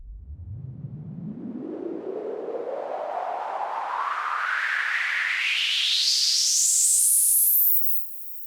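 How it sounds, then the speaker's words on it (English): A white noise riser made with a band pass filter sweeps steadily upward in pitch over about eight seconds, growing brighter and resonant, then cuts off abruptly near the end. "you'll hear this is a really simple way of creating a white noise rise"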